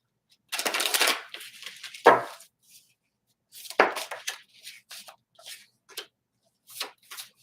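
A Ghost Tarot deck is shuffled close by, making a long riffle followed by a sharp tap, then several short bursts of card shuffling and light clicks separated by pauses, with no speech.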